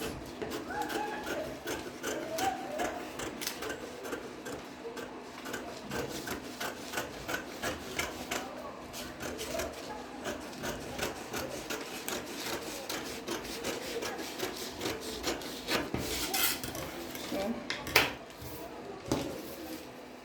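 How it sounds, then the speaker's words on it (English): Shears or a blade cut through fabric for the front panel of a pencil skirt, a steady soft rasping and rubbing carried on a faint continuous hiss. No voice is heard. "I'm cutting this out for the front"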